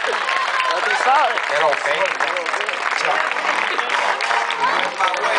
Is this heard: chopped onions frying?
no